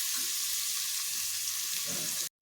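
Chopped onion frying in a pan for a Telangana-style taro curry, a steady close hiss of sizzling oil that runs continuously and stops abruptly.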